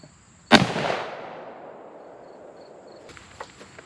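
A single .243 rifle shot fired into a stack of paper, a sharp loud crack followed by a long rolling outdoor echo that fades over a few seconds, then faint rustling.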